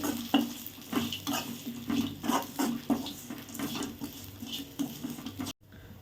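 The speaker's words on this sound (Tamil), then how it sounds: "இப்போ லைட்டாக வதக்கிக்கலாம் தேங்காய் சேர்த்துட்டு" Grated coconut is sautéed in a pan for a mural fish curry, a spoon scraping and stirring in an uneven rhythm over a low sizzle before it cuts off abruptly.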